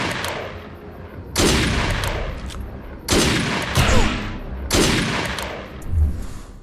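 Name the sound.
gunfire attacking projections in the video game Defiance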